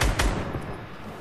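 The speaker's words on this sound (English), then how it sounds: "I'm gonna shoot his teammate, though." Gunfire in the video game Fortnite, a couple of close, heavy shots at the start followed by a fading echoing tail.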